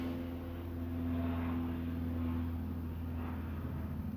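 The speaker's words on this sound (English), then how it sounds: "As we hear the aeroplane." A low, steady drone of an airplane passing overhead rumbles continuously, distant and soft, with a faint swelling and fading throughout.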